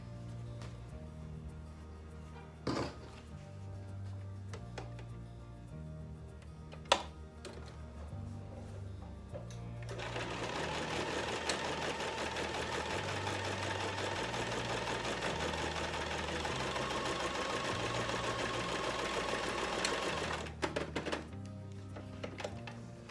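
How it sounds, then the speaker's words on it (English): A sewing machine runs steadily for about ten seconds, stitching along the edge of a fabric dog bandana collar slip. The close, even whir sits over quiet background music, with a few thunks before and after. "And now what I do is sew that down. So I sew along this edge right here."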